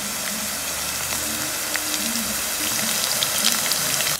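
Round-cut onion slices sautéing in hot oil for a Sri Lankan brinjal milk curry, giving a steady, close crackling sizzle that holds evenly throughout with no talking over it.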